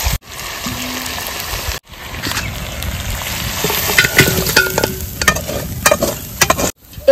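Mutton curry with potato pieces, sautéed in a wok in a village kitchen, sizzles steadily as it is stirred and scraped, then poured into a pot. Close, continuous frying hiss with metallic clinks and scrapes and a few brief pauses, no talking.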